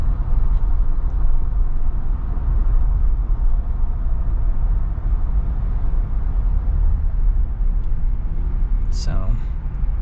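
Tire and road roar inside a moving Jeep Wrangler Rubicon on 35-inch tires, a steady low rumble that holds for ten seconds, with a brief higher chirp near the end.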